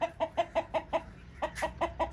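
Two roosters and a hen in a cage cluck in a quick, rhythmic series of short calls, close by, with a brief pause midway before the clucking resumes.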